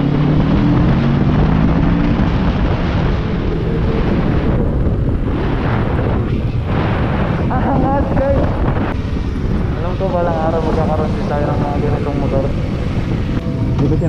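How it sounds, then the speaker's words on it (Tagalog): A Kawasaki Ninja 650 ABS motorcycle accelerates hard, with a loud, steady engine roar and heavy wind rush over the microphone through the whole stretch, its pitch climbing and sweeping through gear changes. "itatry lang natin kung kaya nakalakas yung Ninja 650"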